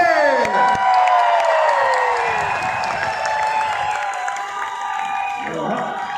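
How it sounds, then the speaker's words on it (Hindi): A crowd at an award function in Ahmedabad cheering and whooping loudly with scattered clapping, shouts and high calls rising over one another, full and close throughout. "एक बार जोरदार तालियां"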